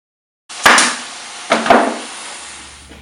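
A hammer drives nails into wooden beehive frames held in an assembly jig, giving three or four sharp, close knocks, each followed by a short ringing decay.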